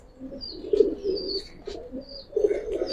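A sobji-type pigeon coos close by in two rounded, throaty bursts separated by a brief pause, with faint higher chirps scattered around it.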